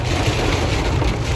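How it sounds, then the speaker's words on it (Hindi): Heavy monsoon downpour during a night of Karwa Chauth, a loud, dense, steady roar of rain hitting surfaces, constant throughout with no talking. "देख रहे हो, ऐसी मूसलाधार बारिश हो रही है"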